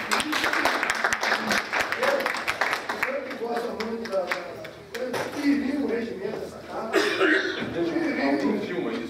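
Applause from the attendees standing at the close of a municipal council meeting, a burst of clapping mixed with coughs and murmuring voices, fading into general chatter of the room.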